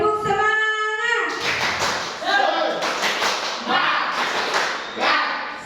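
A school group claps in quick rhythmic bursts, a few rounds of synchronized clapping after a short sung or shouted note, with voices mixed in.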